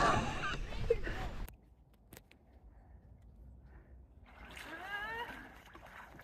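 Bicycles pedaling through water on a Camino Portugues family bike tour, with a brief splashing burst at the start, then quieter wet sloshing and a return of rippling splash noise near the end.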